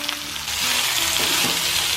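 Tomato dropped into hot oil in a pan for spicy Maggi noodles sizzles loudly and steadily, a broad hiss that swells after the first half second and holds to the end.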